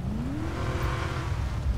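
A Dodge Charger Redeye engine in GTA 5 starts up and runs, a steady low rumble with a rising whine, loud and close throughout with no talking.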